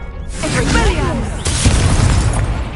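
A spell cast in the Hogwarts Legacy video game, a loud magical burst with a whooshing crackle and a second blast midway, layered over game music and background effects.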